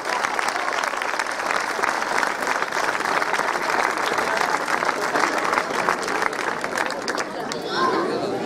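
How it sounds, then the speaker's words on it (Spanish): Sustained audience applause for a bride named Elena at a 1980s wedding-dress show, a dense, even wash of clapping with some crowd chatter mixed in, lasting several seconds. "Un fuerte aplauso para Elena"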